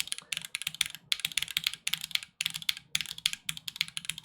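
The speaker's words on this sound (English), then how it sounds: "The center keys sound a little hollow." Center keys of a mechanical keyboard, slightly hollow in tone, typed in a steady rapid stream of sharp close-up clacks with one short gap.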